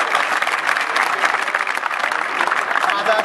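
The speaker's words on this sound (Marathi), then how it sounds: "जोरदार टाळ्या होऊ द्या एकदा" An audience at a commemorative talk on Chhatrapati Shivaji Maharaj bursts into loud, sustained applause, dense clapping filling the whole stretch without a break.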